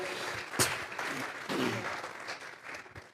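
A church congregation claps together during a sermon, a scattered, faint crowd applause with a few sharper individual claps rising and falling over several seconds.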